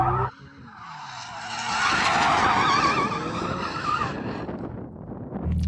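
Tyres on a supercar, a Ferrari F8, McLaren 765LT or Porsche 911 GT2 RS, squeal and skid through a loud, sustained screech of several seconds at a drag race, close and without talk.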